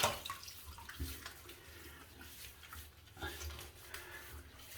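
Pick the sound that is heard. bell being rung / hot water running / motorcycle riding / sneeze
hot water running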